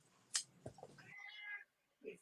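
A house cat meows a few times at close range in a quiet indoor craft studio, short calls with a brief pause between them, and no talk over them.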